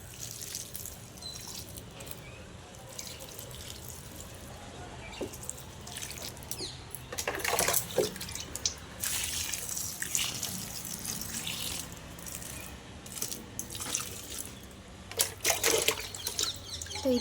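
Water poured onto coriander plants growing in grow bags makes a soft, continuous trickle and splash, rising into louder gushing bursts now and then, with no talking.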